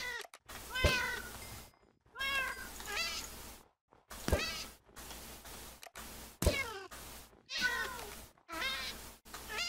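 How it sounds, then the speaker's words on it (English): A cat in a video game meows repeatedly, several distinct drawn-out meows separated by short silent gaps, clear and close. "I hate that meow."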